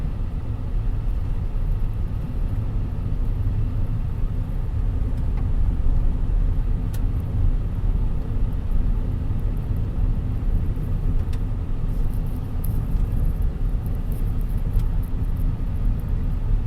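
A car travels along a narrow rural dirt road with one-lane bridges, giving a continuous low rumble of engine and tire noise that holds steady throughout without speech.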